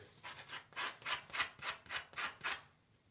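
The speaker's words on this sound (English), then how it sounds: "Maybe I can sand it out." Hand sanding out a scratch, about eight rhythmic back-and-forth rubbing strokes, close and soft, with no talk.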